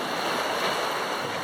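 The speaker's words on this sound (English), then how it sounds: "the amount of water that's coming down this river just now" A flooded river roars past in a constant, loud, fast-flowing rush of water, with no voices.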